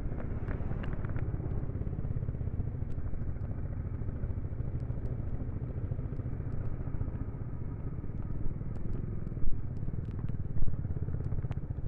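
Motorcycle engine droning steadily while riding a snow-covered mountain road near Shimla, a continuous close rumble with faint clatter and a couple of small bumps near the end.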